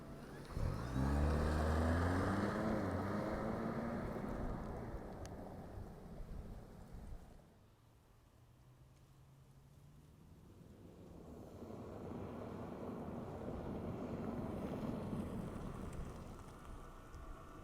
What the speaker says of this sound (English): let's fire up this 4-cylinder hybrid engine and see how this 4Runner moves